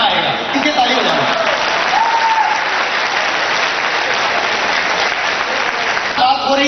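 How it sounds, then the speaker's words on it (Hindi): A large seminar audience in Nagpur claps hands in dense, sustained applause, loud and close throughout, with a brief voice breaking through near the end. "ज्यादा ताली बजाएंगे तो क्या होगा"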